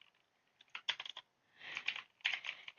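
Typing on a computer keyboard while writing web code, with bursts of rapid close key clicks separated by short pauses, quiet and alone without talk.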